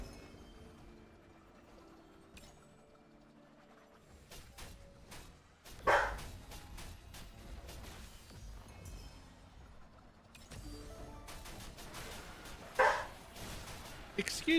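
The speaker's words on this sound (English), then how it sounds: "What are you even barking at?" A dog barks indoors in a few sharp bursts and yips, some loud and close, amid quieter stretches with a person talking at a low level in the room.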